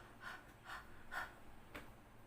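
A child imitates a dog panting during a nursery lesson on the h sound, giving four short breathy huffs at a steady rhythm, faint and close with no talking.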